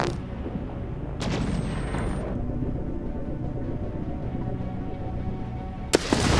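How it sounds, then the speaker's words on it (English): Spaceship explosion in an Endless Space 2 space battle: a loud, sustained rumbling blast with crackling bursts, a sharp burst near the start and another sharp crack near the end, with no talking. "There it goes. Explosion."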